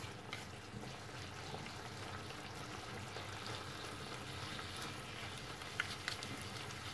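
Salted turnip and pork sautéing in a pan, a faint, continuous even sizzle with a couple of light clicks near the end and no talking.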